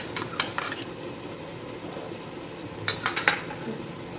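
Ginger and garlic frying in masala for beef kofta curry, with a low steady sizzle beneath scattered utensil clinks and scrapes against the pan, a few quick taps bunched near the end.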